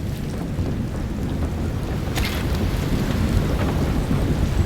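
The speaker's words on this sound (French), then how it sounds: "Le vent est trop fort pour que je puisse traverser." A strong wind storm in the video game Shadow of the Tomb Raider roars as a steady, dense rush of gusting wind and low rumble, loud and continuous without a break.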